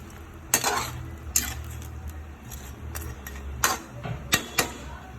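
Garlic butter shrimp stirred in a pan with a utensil, a few sharp metallic scrapes and clinks against the pan spaced irregularly over a soft background sizzle, close by.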